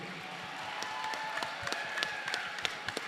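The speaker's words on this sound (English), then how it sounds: "Let's give them a round of applause," A room full of people applauding two chefs at an Iron Chef Detroit cooking event, soft and fairly distant steady clapping with a few sharper individual claps standing out.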